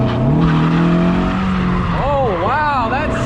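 Miata drift car swinging out with loud tire squeal rising and wavering over a steady engine drone, the pitch sweeping up and down near the end.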